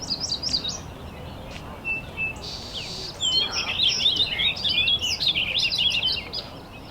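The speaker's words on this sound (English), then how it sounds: "So this is a first-year male orchard oriole." A first-year male orchard oriole sings a rapid, jumbled warbling song of high chirps and whistles, heard up close and clear over faint background hiss.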